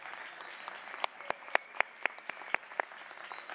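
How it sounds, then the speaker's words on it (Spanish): Scattered, thin applause at a Spanish-language panel on social violence and resistance for peace, honoring Rigoberta Menchú: a handful of individual sharp claps ringing out one after another over faint background, sparse rather than a full ovation. "Un aplauso grande para la doctora Rigoberta Menchú"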